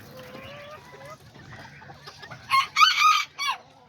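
Small chickens, a little hen and rooster of Serama and Aztec kikiriki type, cluck softly, then a bird gives a short, high crowing burst in several loud pulses near the end.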